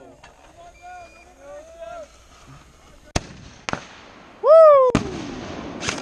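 Pyrotechnic explosions at a Vietnam battle reenactment: two sharp loud bangs, then a whooping shout and a third blast, with people talking quietly before them.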